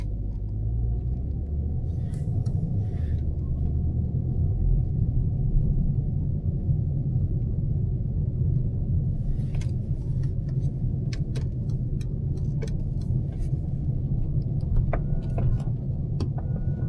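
A Mercedes-AMG GT63 S cruises through Manhattan at night, its engine a steady low rumble from inside the cabin, with faint ticks and clicks scattered over the drone and no talk.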